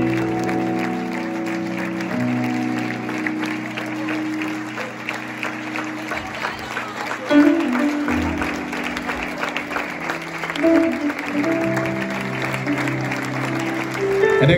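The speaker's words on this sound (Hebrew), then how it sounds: "כולם תרימו ידיים למעלה בחצי דקה של מחיאות כפיים רגע לגדעון" Sustained audience applause at a live show, a dense steady wash of clapping from a large crowd that holds for the full stretch with slight swells, while someone talks over it at times.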